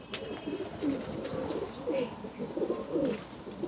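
Highflying Giribaj and Madrasi pigeons cooing in a loft, a run of soft, low, rolling coos repeating close by, moderately quiet, with no talk over them.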